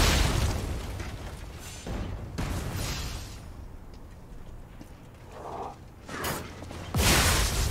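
Repeated heavy booms and bursts of enemy cannon fire in the video game Lies of P, several loud blasts spaced a second or two apart over a steady rumbling background.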